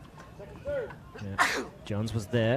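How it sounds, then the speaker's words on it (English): A single loud human sneeze bursts out mid-commentary during a paddle-sport doubles match broadcast, with someone talking before and after it. "Gotta sneeze."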